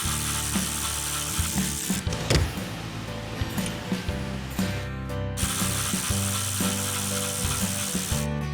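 Ratchet wrench clicking as it undoes two bolts holding a Charger Daytona rear wing, with rapid close metallic pawl ratcheting in bursts and occasional clanks, steady and fairly loud throughout.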